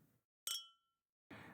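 Glasses clink once in a toast, a single bright ringing chink that decays over about a third of a second, with brief murmurs before and after.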